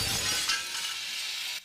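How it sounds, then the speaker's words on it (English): Window glass shatters under a high-speed impact in a hurricane-strength debris test against a security screen, a loud bright crash at the start that decays into a hissing spray of falling shards over about a second and a half, with no voices. "The window shattered"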